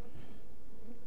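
Honeybees hum around a beekeeper's hive, a continuous close buzzing swarm drone with a steady low whir and no voices.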